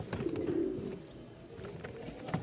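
Rajshahi Giribaz and fancy pigeons coo softly at close range, a low warbling murmur that fades a little then returns, with faint clicks and no talk.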